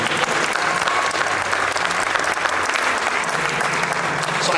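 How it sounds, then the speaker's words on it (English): An audience at a science festival interview claps in dense, sustained applause, steady and loud throughout, with faint voices mixed into the crowd noise. "Everybody, give Don Bies a big round of applause."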